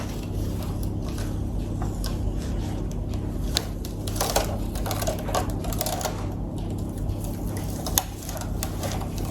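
Stencil material is peeled away from its cut sheet in a dense run of close crackling and ticking snaps, with sharper pops near the middle and end, over a steady low background hum.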